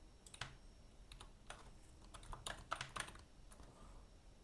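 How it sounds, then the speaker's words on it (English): Typing on a computer keyboard during a programming lesson, a quiet irregular patter of key clicks in short bursts, close but faint, with no talking. "I am typing again, I can simply copy and paste it."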